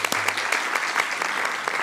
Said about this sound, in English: Everybody, just a round of applause for them again.